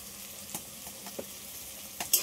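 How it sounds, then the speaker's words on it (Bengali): Beans and salt fry together in a pan with a faint, quiet sizzle, broken by a few soft stirring scrapes and a sharper clink near the end. "এগুলো সব একসাথে আগে ভেজে নিই"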